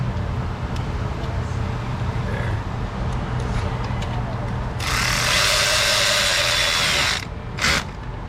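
Power tool tightening a bracket bolt on the intake manifold of a classic 4.3L engine, a steady close mechanical whir with a louder hissing burst toward the end, then brief clicks.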